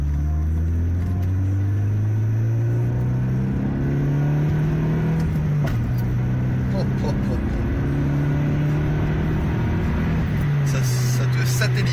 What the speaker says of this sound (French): Vous avez déjà entendu un 2 litres HDI en stage 4.